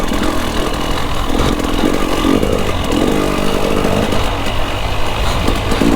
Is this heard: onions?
no